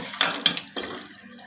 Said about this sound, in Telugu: మనకి ఎంత గ్రేవీ కావాలో నీళ్ళు వేసుకోవచ్చు